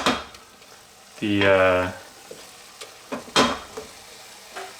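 Red wine simmers and reduces in a pot of onions for French onion soup, a steady close bubbling sizzle broken by a couple of utensil knocks, with a short spoken word early on.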